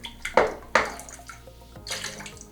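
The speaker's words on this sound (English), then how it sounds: "just wet the brush a little bit. A little bit of water on the puck" A small amount of water drips and splashes onto a Razorock Black Bay shaving soap puck and a shaving brush, with two close, distinct splashes early on and then softer wet trickling.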